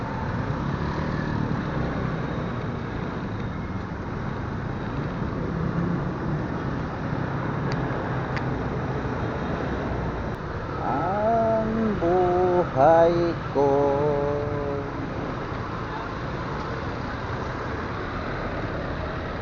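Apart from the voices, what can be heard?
road traffic noise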